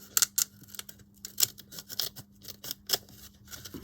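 Scissors trimming tape on a repurposed leather-look book cover, several crisp, close snips coming in uneven bursts over a faint background hum, with no one speaking.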